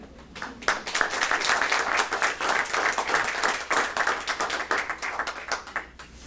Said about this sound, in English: Don't you think they all deserve another big round of applause?